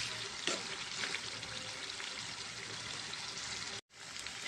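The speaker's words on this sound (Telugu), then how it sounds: "మనకి ఇంకొక 5 మినిట్స్ అయితే పడుతుందండి చికెన్ ఫ్రై అవ్వడానికి" Chicken fries in a pan with a steady, close sizzle and crackle that holds evenly, with a soft stir near the start and a brief cut-out near the end.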